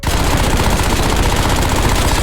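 A Ladra SMG fitted with a compensator fires in Warzone, one sustained, loud full-auto burst of rapid, evenly spaced shots with no pauses.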